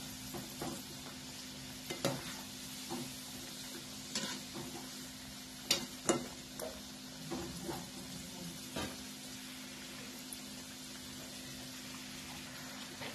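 Samosas deep-fry in hot oil on a medium gas flame, giving a faint, steady bubbling sizzle with occasional louder pops and crackles and no voices.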